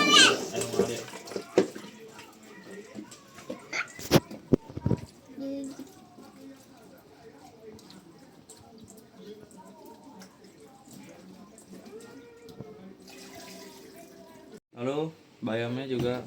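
Long beans are washed in a basin under running tap water, with splashing and water flow at close range, under near-continuous talk and a few sharp clatters.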